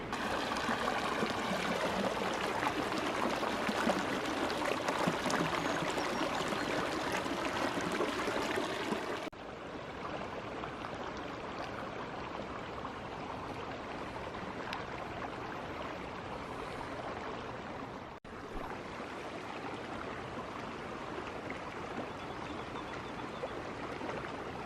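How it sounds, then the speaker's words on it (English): Water flows steadily over rocks in a mountain creek, a constant rushing and babbling that stays even and unbroken, with no voices. "Just a steady flowing stream"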